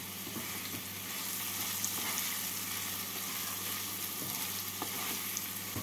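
Salt, turmeric and sugar stirred into a pan while cooking chire polao, a steady low sizzle with soft scraping stir strokes throughout, fairly close and without talk.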